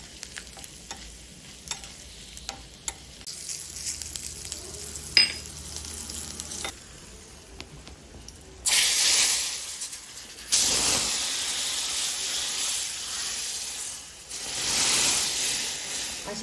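Asafoetida, turmeric and one or two green chillies drop into hot tempering oil, crackling with scattered pops, then bursts of loud frying sizzle swell and fade, close up with no talk.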